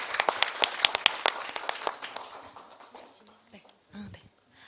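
An audience at a Korean economic forum session gives a burst of brisk applause that thins out and fades over a few seconds, with scattered claps and a voice at the end.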